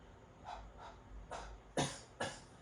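Huff coughs from a breathing exercise: a few soft breathy exhalations followed by two sharper, more forceful huffs, close and alone.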